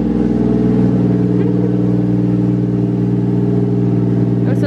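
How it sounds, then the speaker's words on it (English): A three-rotor rotary engine in a Nissan 240SX runs close by with a loud, steady, buzzy drone that barely changes, ending with a brief flicker near the end. "that's my 3-rotor running. Makes really weird sounds."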